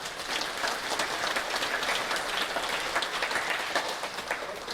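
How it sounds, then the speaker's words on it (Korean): A congregation at a Korean prayer meeting honoring national veterans and war dead applauds together, a steady crowd clapping that holds evenly for several seconds with no voices over it. "이분들 그리고 이 돌아가신 이분들에 대해서 큰 박수 한번 해주시고"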